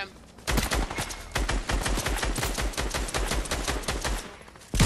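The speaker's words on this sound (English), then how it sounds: "Somebody's shooting at me" Rapid gunfire in an online squad shooter game, sharp repeated shots aimed at the player, coming in bursts across most of the moment with brief pauses, loud and close with little else around them.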